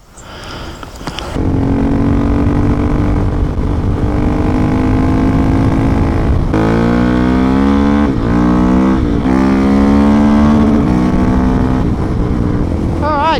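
A 2019 KTM 690 Enduro R single-cylinder motorcycle ridden along a road, its engine droning loud and close throughout, pitch rising and falling through gear changes and throttle sweeps after a quiet start.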